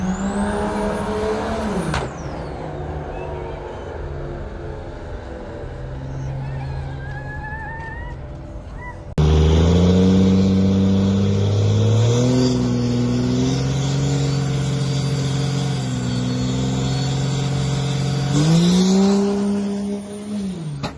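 A 1200hp Cummins-powered Mega Cab diesel pickup at a drag strip rumbles loudly and steadily, then revs up harder partway through and holds a heavy, droning engine note close by before easing off near the end.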